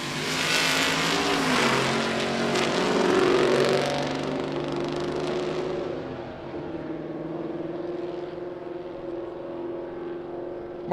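Drag racing cars, a Chevelle and a Cobra, roar down the strip at Cordova Dragway, loud engines building to a howl over several seconds, then fading away into the distance.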